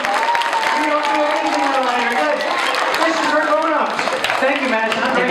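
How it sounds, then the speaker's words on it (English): Children and an audience applaud at a school science presentation, a dense steady wash of clapping and cheering voices that holds loud throughout. "Giant round of applause for Madison."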